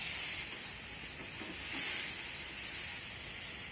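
Pumpkin leaves stir-frying in a pan over a high flame, a steady close sizzle and hiss of moisture cooking off, swelling briefly, with no talking.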